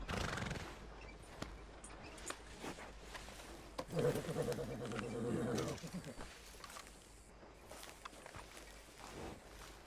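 A horse in the video game Red Dead Redemption II gives a loud, drawn-out whinny, with soft clip-clop of hooves and faint ambient birdsong around it.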